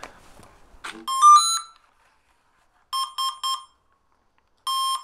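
After the battery is plugged into the electronics of an RC flying wing, a short rising beep melody plays, then a quick burst of three beeps and a single beep, all clear and close, with faint handling noise before them.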